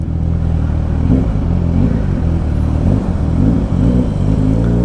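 Kawasaki Ninja 1000SX motorcycle revving loudly inside a tunnel, a deep booming engine roar with rising and falling throttle blips echoing close throughout.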